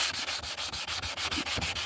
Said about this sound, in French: Je mouille et après je frotte au 600.